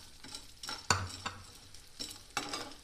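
An ingredient for panjiri roasts in a pan over a low flame, with a spoon scraping and stirring in several distinct strokes and a soft, quiet sizzle between them.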